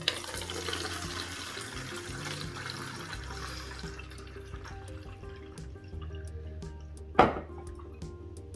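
Water pours into a mixture for a homemade toilet cleaner, a steady trickling stream that is loud and close and ends with a sharp splash or clink near the end.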